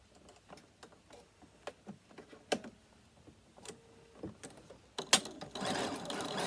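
Quiet mechanical ticking and clicking of a sewing machine with a zipper foot removed, stitching down the side of a fabric bag in uneven bursts, ending in a louder whirring run.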